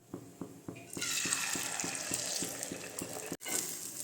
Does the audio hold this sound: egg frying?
yes